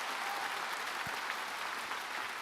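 A church congregation at a Sunday afternoon worship service claps together, a thick, even wash of applause sustained throughout.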